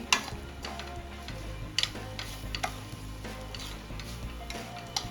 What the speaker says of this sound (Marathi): आता आपल्याला छान गोल्डन कलर येईपर्यंत हा किस परतून घ्यायचा आहे तुपामध्ये